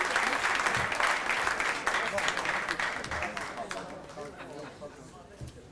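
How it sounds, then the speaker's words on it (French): Applause from the audience at the 40th-anniversary gathering of the La Malbaie hospital foundation: a full room clapping that slowly thins and fades, with murmured voices and chatter mixed in. "Une bonne main d'applaudissement donc à nos ex-ADG."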